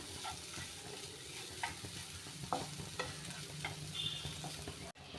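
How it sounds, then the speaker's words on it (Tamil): Grated coconut fries lightly in a pan, a soft, quiet sizzle with intermittent spatula scrapes and taps, ending with a brief knock. "தேங்காவை இப்படி ஈரப்பதம் போகிற வரைக்கும் லைட்டாக ஃப்ரை பண்ணிக்கோங்க"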